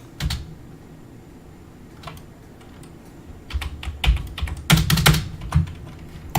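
Computer keyboard keys pressed during a PC game session, irregular clicks and short bursts of typing that thicken toward the end, fairly close against low background hum.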